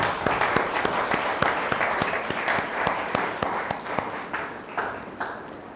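Church congregation clapping in a steady rhythmic beat, each clap sharp and evenly spaced, moderately loud and continuing for several seconds with no talking over it.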